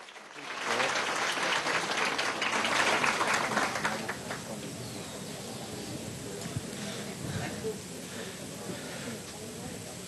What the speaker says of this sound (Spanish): Perfecto, un aplauso, pues.